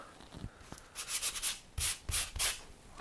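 Hand sanding a small missed patch on a wooden surface: a faint rub, then several close, scratchy strokes in uneven bursts with short pauses between them, with no voices.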